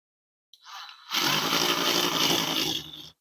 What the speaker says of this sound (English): just drilling out the center